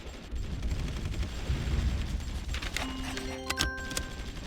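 Gunfire in the strategy game Supreme Ruler Ultimate, sharp crackling shots scattered over a low rumbling battle background, with tonal game sounds rising near the end.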